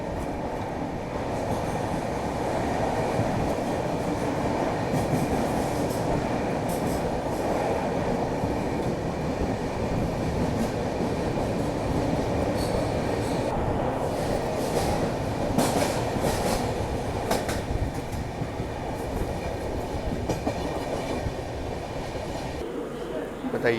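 A passenger train runs through Jalgaon railway station in India without stopping, heard from inside as a continuous loud rumble with rattling, clattering wheels and occasional faint squeals throughout.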